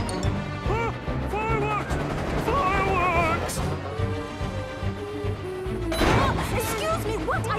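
Railway detonators crack and bang in a rapid, uneven string in a Thomas & Friends cartoon, loud and close over a bed of music, with a bigger burst near the end.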